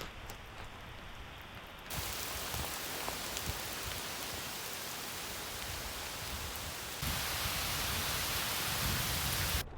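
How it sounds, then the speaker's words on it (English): Steady, dense rain hissing on surfaces at a campsite in Tyler State Park, constant and enveloping, with no voices; the wash grows slightly louder partway through. "without any hope of the rain letting up"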